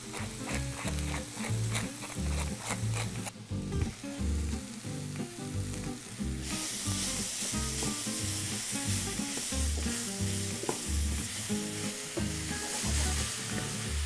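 Parsnips, onion and leek frying in a pan, a steady close sizzle with rhythmic stirring scrapes and clatters, growing brighter and louder partway through as fresh vegetables go in.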